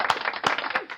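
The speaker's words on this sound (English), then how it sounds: "Do the claps after I say how long we've been married." Hands clap about four times in a quick, uneven burst, sharp and close, with no talking.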